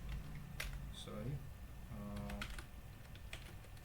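A computer keyboard being typed on while writing Excel VBA code, quick light clicking keystrokes in irregular bursts, heard close and fairly quiet alongside faint speech.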